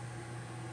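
A microwave oven transformer hums steadily while powered, a quiet, even electrical drone with no change over its brief span.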